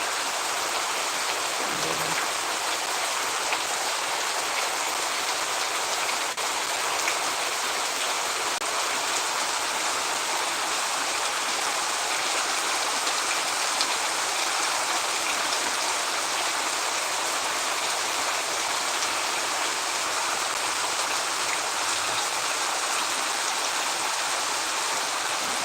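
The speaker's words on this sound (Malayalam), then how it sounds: "പുറത്ത് ശക്തമായിട്ട് മഴ പെയ്തുകൊണ്ടിരിക്കുകയാണ്." Heavy night rain pours down outdoors as a dense, even hiss that never lets up, with no voices.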